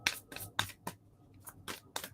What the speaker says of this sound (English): Get one more shuffle here.